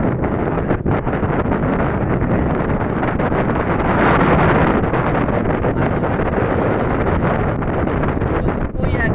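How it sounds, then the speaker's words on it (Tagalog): Strong wind roars and buffets the microphone continuously, loud and rumbling throughout, with a stronger gust near the middle. "Napakalakas ng hangin, guys."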